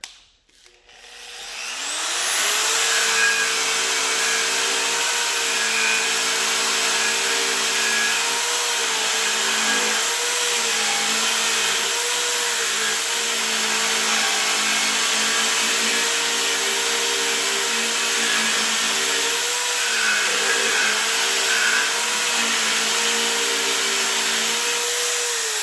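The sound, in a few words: wire brush on power tool removing rust from brake caliper bracket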